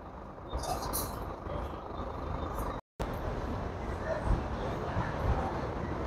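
Intercity Reunidas coach pulling out of the Balneário Camboriú bus station, a steady broadband engine and road rumble with a brief air-brake hiss near the start and a short dropout midway; a voice talks over it.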